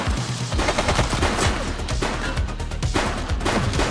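Rapid gunfire rings out in The Precinct during a police shootout, dense overlapping shots crackling loudly and steadily for the whole stretch with no pause.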